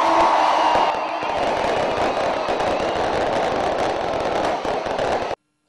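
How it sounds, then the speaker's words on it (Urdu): Fireworks display at the Sibi fair in Balochistan, a dense, continuous crackling and popping of firecrackers with crowd noise mixed in, loud and steady for about five seconds before cutting off abruptly. "میلے کے موقع پر آتش بازی کا مظاہرہ ان سالانہ تقریبات کا لازمی حصہ ہوتا ہے"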